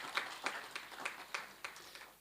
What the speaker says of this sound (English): Can we give Ango Joy another big round of applause?